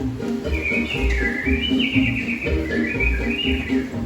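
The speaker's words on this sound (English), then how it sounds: "The birdies have their fling" Animatronic birds in Disney's Enchanted Tiki Room at Walt Disney World's Magic Kingdom chirp and trill in rising and falling whistled phrases over steady show music.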